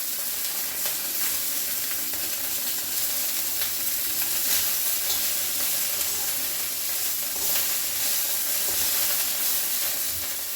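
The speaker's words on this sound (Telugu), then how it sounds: "ఇప్పుడు మనం మిరపకాయలు వేగుతున్నాయి చూద్దాం" Chillies fry in a pan for a tangy roti pachadi chutney, giving a steady, dense sizzle and hiss that runs unbroken throughout, close and fairly loud, with no voices.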